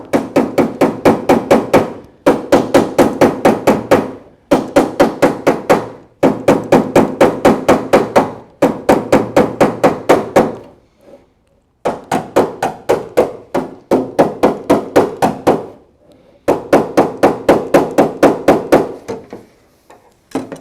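Rapid bursts of hammer blows on auto body sheet metal, worked in a line to raise a low area near a shaved door handle; loud, close, fast even strikes in groups separated by short pauses, no talking.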